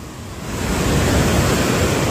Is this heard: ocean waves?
yes